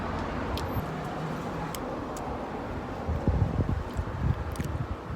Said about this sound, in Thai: โอ้ยแล้วลมก็พัดมา หนาวเลย